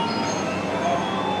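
Steady rumbling roar of a Japanese subway train in motion, a dense continuous wash of rail noise with a faint high whine and no voices.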